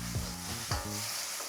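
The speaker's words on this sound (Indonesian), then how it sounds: "Sekarang kita masukin air." Water poured into a pan of stir-frying long beans sets off a loud hiss and sizzle, with two quick scraping stirs close by and no speech.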